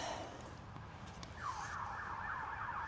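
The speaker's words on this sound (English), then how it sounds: "Sirens." A siren starts up partway through and wails in a rapid, repeating yelp, moderately distant, over steady background noise.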